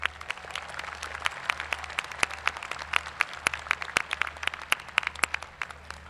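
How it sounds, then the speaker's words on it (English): A graduation audience at a Clear Springs High School ceremony applauds the parents, a lively field of many scattered hand claps, fairly distant and steady throughout, over a low hum. "Let's give our parents a round of applause."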